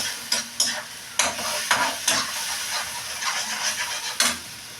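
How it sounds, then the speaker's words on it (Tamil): Tomatoes sautéing in a pan for tomato chutney, a close sizzle broken by several sharp bursts of stirring and spattering, with no voices. "பச்சை வாசல் போகிற அளவுக்கு நல்லா இதை வதக்கிட்டேன்"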